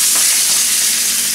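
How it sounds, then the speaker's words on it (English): Two New York strip steaks frying fat side down in a pan, giving a loud, continuous close-up sizzle with no pauses. "Now, 2 pieces of steak going into the frying pan"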